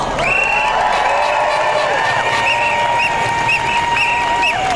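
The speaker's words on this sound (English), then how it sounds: "So give yourselves a round of applause." An outdoor crowd of striking British teachers and railway workers applauds and cheers at a rally, with whistles sounding above the clapping.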